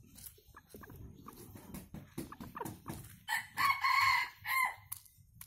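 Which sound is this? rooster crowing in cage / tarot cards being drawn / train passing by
rooster crowing in cage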